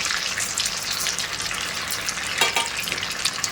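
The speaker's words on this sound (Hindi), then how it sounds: "इस तरीके से इसके अंदर ऑयल के अंदर डाल के फ्राई कर लेना है" Potato and semolina pieces fry in hot oil with a loud, steady crackling sizzle, a brief burst of bubbling spatter rising partway through.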